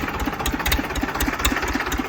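A tractor engine idles steadily with a rhythmic low chugging pulse, several beats per second, close by and fairly loud with no talking.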